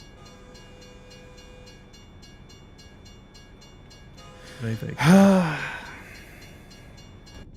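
Trains pass a road in the American Truck Simulator video game, giving a steady, rhythmic clatter at moderate distance under a constant engine drone, while someone briefly speaks and exhales near the middle.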